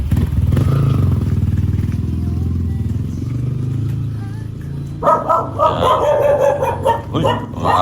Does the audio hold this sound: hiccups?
no